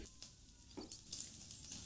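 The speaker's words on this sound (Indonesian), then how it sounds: "Masukkan 2 sendok makan margarin." Two spoonfuls of margarine sizzle as they melt in a wok, pushed aside from cooked chicken, giving a faint, steady hiss with a few soft crackles.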